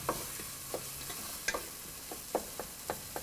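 Chopped tomatoes sauté with masala in a pan for mutton kurma. A faint sizzle runs under evenly spaced spoon taps and scrapes as the mixture is stirred.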